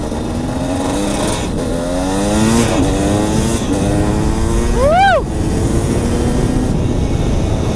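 A sports car engine revs hard nearby, its pitch rising in repeated sweeps through the gears, then climbing sharply to a loud high howl before dropping back to a steady drone.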